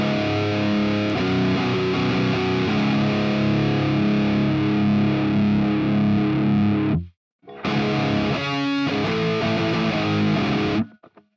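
Heavily distorted electric guitar with a tone modeled on a particular song plays loud, dense chugging riffs, briefly cutting out for a moment before resuming, with no voice heard.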